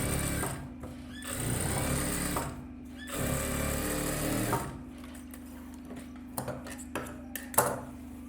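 A sewing machine stitches a silk skirt in bursts, its fast motor hum running for a second or two at a time and then stopping, with quiet handling clicks and taps in the pauses.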